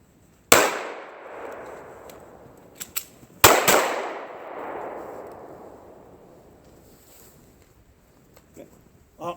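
A handgun is jabbed into a target and racked to clear a malfunction: two sharp, loud metallic bangs a few seconds apart, each ringing out into a long decaying reverberant tail, with faint clicks between.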